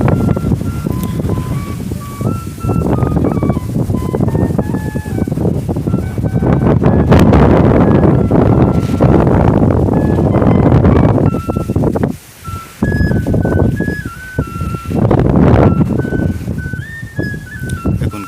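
A strong Nor'wester (Kalbaishakhi) storm wind roars and gusts loudly and continuously near the microphone, with whistling tones rising and falling over the rushing air and a brief lull near twelve seconds.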